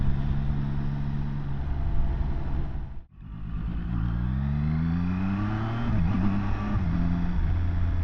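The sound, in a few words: Zontes 703RR sports motorcycle riding on dual carriageway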